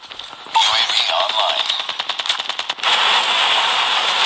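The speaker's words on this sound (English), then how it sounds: "Sentry gun deployed." A sentry gun opens fire in a Call of Duty match, rattling off fast automatic bursts that stutter and break off, then give way to a loud, dense stretch of game noise; no voices.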